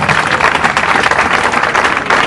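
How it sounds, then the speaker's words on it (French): An audience applauds loudly for the press at a Congolese political gathering, a dense, steady wash of many hands clapping at once that holds for a couple of seconds without talk. "je vous demande encore d'applaudir très fort pour notre presse"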